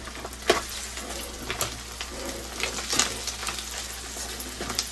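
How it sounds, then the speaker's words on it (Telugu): Prawns fry in a pan for gongura prawn curry, giving a steady close sizzle with scattered crackles and occasional scraping stirs, no voices. "బాగా వేగి కొంచెం రొయ్యలు కూడా బాగా వేగేసినాయి"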